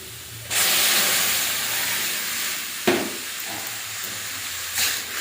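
Water is poured into a hot pan of fried red lentils (masoor dal), setting off a loud steaming hiss and sizzle that swells at once, stays steady, then flares briefly twice more.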